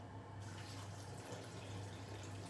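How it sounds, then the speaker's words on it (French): Water runs steadily from a kitchen tap while potatoes and water go into a Thermomix for a velouté, making a continuous, even hiss and rush that stays close and unbroken throughout. "Je vais juste prendre de l'eau au robinet"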